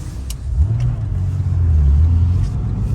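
A 1997 Porsche 911 Turbo S engine revs loudly and close by while warming up, a low rumble that rises and holds steady for a few seconds with no talking.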